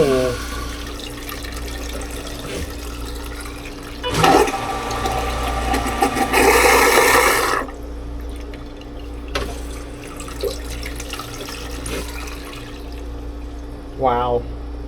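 Raritan Quiet Flush marine toilet flushing in the refitted head of a Silverton 42C boat, with a loud burst of rushing water followed by fainter gurgling and trickling as it refills, heard close over a steady pump hum.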